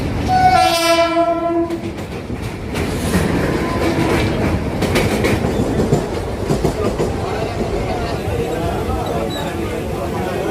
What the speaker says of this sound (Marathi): इथून मी CSTला जाणारी ट्रेन पकडते आहे